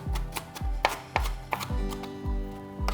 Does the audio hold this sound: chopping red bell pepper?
yes